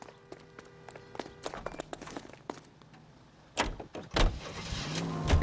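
A car is entered and driven off in the video game L.A. Noire: running footsteps and scattered clicks, a door thud, then an engine roaring up loudly over the last two seconds.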